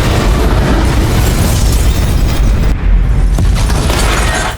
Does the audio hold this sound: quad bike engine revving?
no